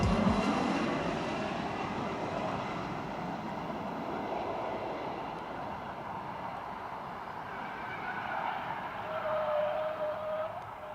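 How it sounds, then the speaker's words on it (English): A U-2 spy plane comes in to land with a chase car racing alongside, giving a fairly faint, continuous engine and road rumble that swells slightly near the end, with no voices. "This car rushing to help this U-2 spy plane land."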